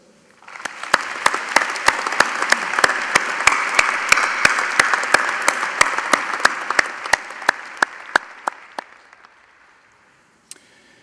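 Graduation ceremony audience applauding in a historic hall, dense sustained clapping that swells quickly, holds steady for several seconds, then thins to a few last claps and fades to quiet.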